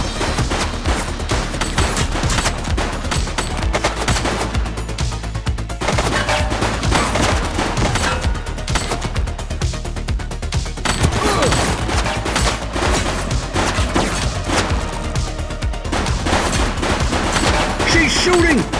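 Rapid bursts of gunfire from The Precinct police game crackle loudly and repeatedly, sharp shots in quick clusters with brief pauses, dense and close throughout.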